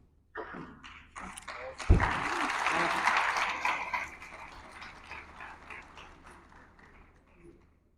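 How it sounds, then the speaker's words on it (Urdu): An audience breaks into applause after a thump, the clapping swelling loudly and then gradually fading over several seconds. "ذرا تالیاں بجا کے ان کے استقبال ہونا چاہیے."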